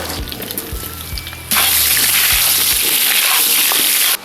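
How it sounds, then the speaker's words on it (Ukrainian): Quiet clinks and movements give way to a sudden loud, steady sizzle of whole potatoes frying in hot fat in a cauldron over an open fire, close up, cutting off abruptly at the end. "картопелька смажиться"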